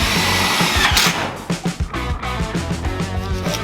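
A power drill whines steadily as it drives small self-tapping flat Phillips head screws into metal inside a metal building garage, loud and close, with brief dips in pitch and pulsing as the screws bite.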